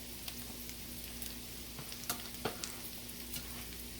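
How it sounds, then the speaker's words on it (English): Scrambled eggs fry quietly in a pan with potatoes, sausage, smoked sausage and onions, giving a steady soft sizzle with a few faint clicks of a utensil stirring. "So scrambled the egg shouldn't take any time."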